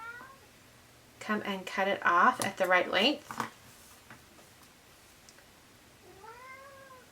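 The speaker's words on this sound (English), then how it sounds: "That's my cat meowing." A house cat meows once near the end, a rising plaintive call after a person speaks over brief rustling, clear and fairly close.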